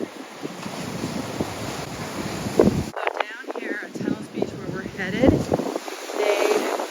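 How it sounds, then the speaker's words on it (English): Ocean waves and gusty wind at Tunnels Beach on Kauai, with broad surf wash and blustery wind buffeting the microphone, rising and falling unevenly, while people talk faintly beneath the roar. "we're right here next to the ocean"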